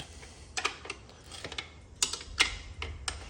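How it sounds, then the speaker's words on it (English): A wrench tightens the chain adjuster bolts on an ATV such as an LTZ400, KFX400 or DVX400, giving a series of sharp, close metallic ratchet clicks and clinks in uneven bursts over quiet background. "Now, we're going to tighten our bolts back up."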